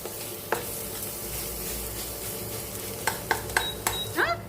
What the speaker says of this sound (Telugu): మసాలా అంతా కూడా ఈ ఆయిల్లోనే బాగా వేయించుకోవాలి